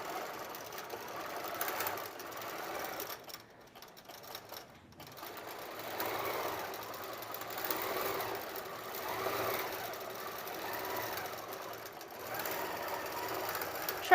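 A sewing machine stitches fabric for a Halloween advent calendar at a slightly shortened stitch length, whirring steadily and close by with a brief pause near the start before running on.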